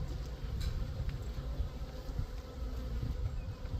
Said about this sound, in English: Trying to find the queen in a whole bunch of bees.